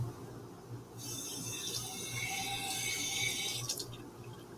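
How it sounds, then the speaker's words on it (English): Running tap water splashes into a sink while a 10 ml graduated cylinder is rinsed in a lab, starting abruptly after a second of quiet and flowing steadily, close and clear. "I'm going to rinse this with some tap water."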